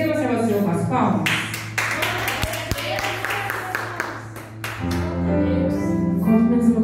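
Church congregation claps along in worship, a steady run of sharp hand claps layered under loud sustained music and singing voices, with a brief drop before the music swells again.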